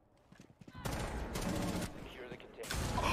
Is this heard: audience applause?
no